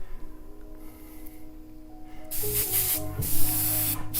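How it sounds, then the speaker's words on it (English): An airbrush sprays paint onto a graffiti-alphabet canvas, starting after a quiet stretch as a loud, close burst of hissing air that sputters briefly and then continues strongly. "You kind of use both hands to control the airbrush."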